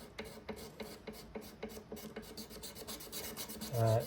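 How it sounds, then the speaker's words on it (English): Razor blade scraping decades-old gunk off the finish of a 1950s Kay 6533 Value Leader guitar, a steady run of short, close rasping strokes, with one louder scrape at the end. "Just scraping with a razor blade, getting that literal decades old gunk off."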